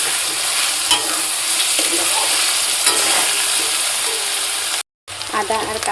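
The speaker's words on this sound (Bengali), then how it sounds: "আদা আর কাঁচা লঙ্কাটা দিয়ে একটু নাড়াচাড়া করে নিলাম গরম তেলে।" Chopped ginger and green chili are stirred in hot oil, giving a steady, close sizzle with scraping stirring sounds, a brief gap near the end, then more frying.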